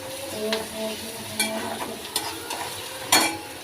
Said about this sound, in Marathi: मिरची टाकली आपण छान अशी फ्राय करून घेऊ कांद्यामध्ये